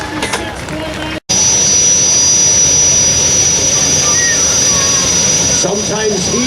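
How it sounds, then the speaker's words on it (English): A modified aircraft engine on a pulling tractor at a county fair tractor pull roars loud and constant with a high whine on top, broken only by a brief dropout, and a voice talks faintly under it. "These are modified aircraft engines."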